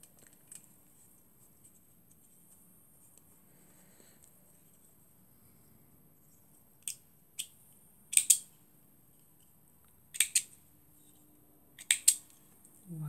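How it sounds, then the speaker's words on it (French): Scissors snip the tulle hair of a wooden Christmas fairy: a handful of crisp, close cuts in near silence, some single and some in quick pairs, spaced a second or two apart. "c'est pas le bon ciseau celui-là, je vais faire avec celui-là"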